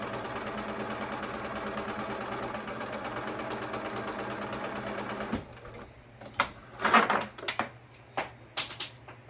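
A sewing machine stitches ruffle gathers in a fast, even mechanical whir for several seconds, then stops; quieter clicks and fabric handling noises follow in irregular bursts.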